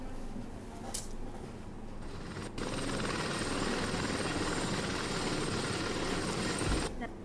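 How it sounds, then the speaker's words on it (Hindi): A helicopter sets down on a newly built helipad during a landing trial, its rotor chop and engine roar loud and close, swelling sharply partway through and holding steady to the end. "DGCA अधिकारियों ने आज हेलीकॉप्टर उतारकर हेलीपैड का ट्रायल किया।"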